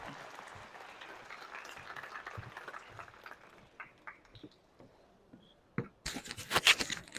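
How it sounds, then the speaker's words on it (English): An audience at a spiritual fitness talk gives a round of applause that starts as scattered, uneven claps and swells into dense, louder clapping near the end. "One more round of applause, please."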